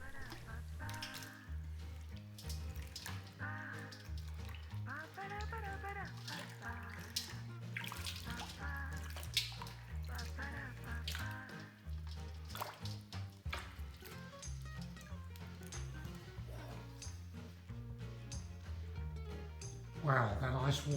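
Butter is washed by hand in iced water, with soft splashing and sloshing kept under a steady music bed and a speaking voice.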